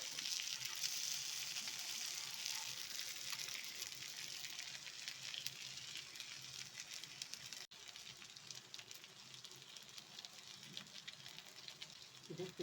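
Fish fries in a pan with a dense, steady sizzle and crackle that holds evenly throughout and sounds close and moderately loud.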